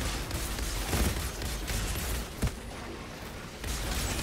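Gunfire in the video game Outriders, played in the Starfall endgame: a dense, steady wash of game combat noise with two sharper bursts, the clearest just before the midpoint, and no talk over it.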